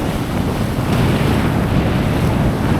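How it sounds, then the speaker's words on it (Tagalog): Strong wind roars and buffets steadily with a constant rushing noise, mixed with surf at the shore, loud and unbroken throughout. "grabe yung hangin"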